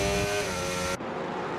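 McLaren Formula 1 car engine in the F1 25 racing game, a steady high-pitched drone that shifts abruptly partway through, loud and continuous with no talk.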